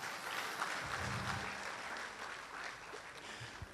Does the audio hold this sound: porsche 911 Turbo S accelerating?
no